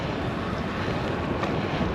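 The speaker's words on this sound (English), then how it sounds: "dull, damp and very windy Donegal" Strong wind in Donegal, Ireland, on a dull, damp day buffets the microphone in a constant, heavy rush with no talking.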